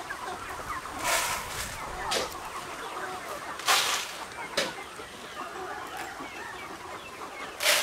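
Chickens in a coop on a poultry farm, birds around 90 days old, cluck and squawk in scattered bursts at moderate distance over a steady background murmur of the flock.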